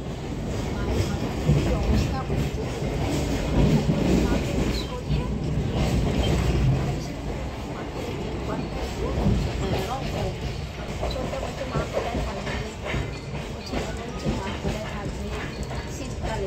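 Amta local train running on rails, a steady, loud, continuous rumble with rhythmic rattling of the carriage throughout, heard from on board.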